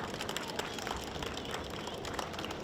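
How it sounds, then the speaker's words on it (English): A crowd applauds steadily at a city hall and welcome centre ribbon cutting ceremony in Mount Rainier, a dense, even wash of clapping that holds at a constant level throughout. "Please give her a big round of applause"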